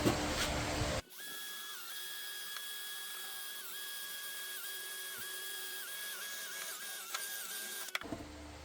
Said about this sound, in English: That's how you grind off the rubber